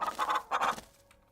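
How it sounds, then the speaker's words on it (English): A few soft, muffled clucks from a chicken in a video game in quick succession, then fading, heard alone and fairly close. "a series of weak clucks call out from the nearby bush"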